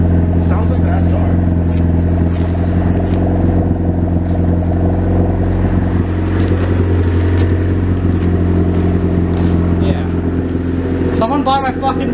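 A Honda Prelude with an SR engine runs nearby, a loud, steady, rumbling engine drone with a few brief rises and clattering bursts.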